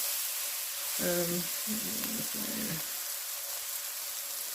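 Cabbage fries and sizzles in a pan while it caramelizes for Southern fried cabbage, giving a steady close hiss throughout with a few brief tonal sounds near the middle.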